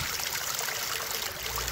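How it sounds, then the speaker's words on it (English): A microhydro turbine pump drawing water and air from a bucket, giving a continuous close hiss and gurgle of rushing, sucking water without pause. "You can hear the air sucking too."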